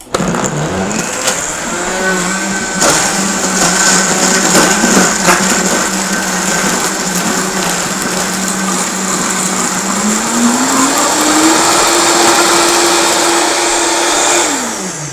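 A loud blender runs continuously and close by, grinding and whirring a green smoothie with dates and nuts, its motor pitch rising steadily partway through before winding down at the end.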